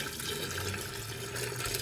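Boiling water from a pot pours down a kitchen sink drain, a steady rushing gurgle of liquid that stays constant and fairly close throughout.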